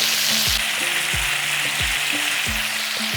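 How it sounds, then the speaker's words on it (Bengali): Ridge gourd frying on high flame in a pan, a steady loud sizzle with repeated low knocks of a spatula scraping and stirring, close and with no talking. "এরপরে ঝিঙেটাকে একটু হাই ফ্লেমে রেখে ভাজা ভাজা করে নেব।"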